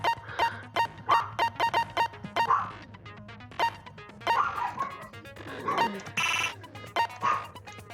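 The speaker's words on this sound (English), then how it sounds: "My dog is just freaking out." A pet dog barking in a rapid, agitated run of sharp yaps, fairly close, with a ringing phone-like tone and some whimpering mixed in around the middle.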